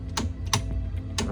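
A Mercedes-Benz ignition key turns in a steering lock that stays locked in a no-start fault, giving three sharp, separate mechanical clicks close up.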